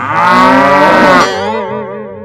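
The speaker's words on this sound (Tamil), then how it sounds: "எரும மாடு குழியில விழுந்துச்சுடா" A buffalo that has fallen into a pit lets out one long, loud, close moo that sags into a lower, wavering groan before trailing off.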